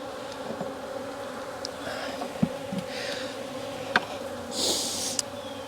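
Honey bees buzz around an open hive being inspected, a dense, continuous close drone with individual bees whining past and a few sharp clicks of frames and tools.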